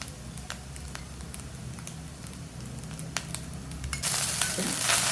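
Cooked rice is tipped into a pan of coconut frying on high heat for coconut rice, giving a close, steady sizzle with soft stirring scrapes and a louder, brighter hiss as the rice lands.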